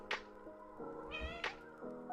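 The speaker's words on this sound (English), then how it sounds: "Can hear my lovely cat welcoming me." A house cat meows repeatedly in greeting as its owner arrives home, a few clear, fairly close calls with rising and falling tones, spaced out over a couple of seconds, with no talking.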